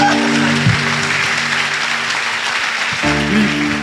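An audience applauds steadily at a church gathering celebrating Jesus, a dense wash of clapping that carries from start to finish with faint tones beneath.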